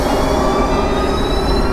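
A departing train rumbles steadily close by with a high metallic whine from the wheels, a brief continuous burst.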